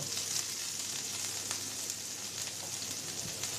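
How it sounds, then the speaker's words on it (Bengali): Onions and green chilies sizzle in oil for a beef keema puri, a steady close hiss of frying running throughout with no voices. "আমি ভালো করে এটা লাল লাল করে ভেজে নেব"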